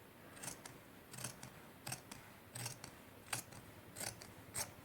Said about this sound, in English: I'm just going to cut it